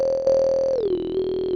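An Ableton Analog synthesizer patch run through a formant filter holds a single sustained buzzy tone that glides down in pitch partway through, with a vowel-like resonance, steady and alone.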